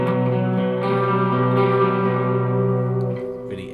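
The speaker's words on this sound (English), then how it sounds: "let's look at a chorus sound. So the classic chorus sound." A sustained electric guitar chord rings out with a shimmering, wavering chorus effect, swelling slightly before fading near the end.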